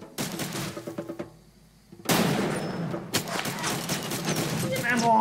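Gunfire in the video game Far Cry 2: a burst of rapid shots, a short lull, then heavy, sustained loud firing and blasts continuing to the end.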